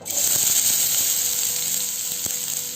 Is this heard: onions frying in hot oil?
yes